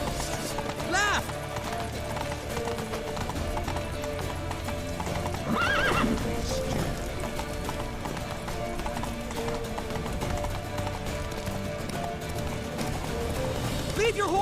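Horses gallop hard in The Witcher 3: Wild Hunt, a steady drumming of hooves with sharp neighs breaking through, loud and continuous under shouting voices.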